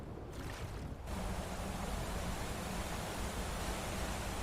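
A waterfall in the video game Skyrim pours as a steady, dense rushing roar, loud and continuous with no other sounds over it.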